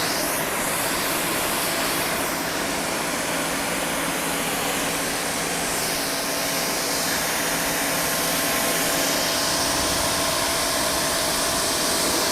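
Adam's Pressure Washer 2.0 sprays steadily through its wand onto a car's wheel wells, a constant loud hissing roar with a motor hum beneath, unbroken and close.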